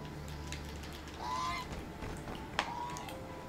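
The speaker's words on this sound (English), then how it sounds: "You just wanted me to see that it was a goose?" A goose honks in the video game The Unfinished Swan, one short honk rising over a soft, steady ambient game background, followed by a small sharp click.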